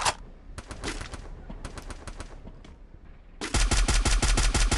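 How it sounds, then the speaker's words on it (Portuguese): Rapid bursts of automatic gunfire in the Free Fire video game, a few ragged volleys early on followed by a loud, sustained stream of evenly spaced shots, with no voices over it. "Ele tá atirando no nada e tá pegando nos caras."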